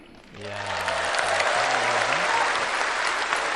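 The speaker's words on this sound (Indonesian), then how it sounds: "Tepuk tangannya kurang semangat." A crowd at a political rally breaks into applause. It swells quickly after a brief voice at the start and then holds as a dense, sustained roar of clapping.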